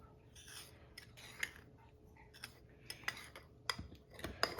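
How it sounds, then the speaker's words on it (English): Dry ingredients for a prop cyanide tooth stirred in a small container, giving faint scattered scrapes and light clinks that turn into a few sharper ticks toward the end, with no talking. "They're dry ingredients. Let's stir them up."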